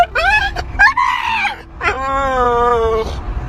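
A stray pit bull gives loud, screaming-like vocalizations, a couple of short shrill yelps followed by a long wavering howl-scream, very close and dominating the sound.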